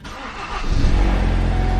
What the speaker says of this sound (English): We're gonna start the car 3, 2, 1.